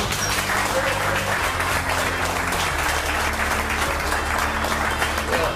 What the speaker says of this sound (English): how about a big round of applause for Mr. Rick Goldstein.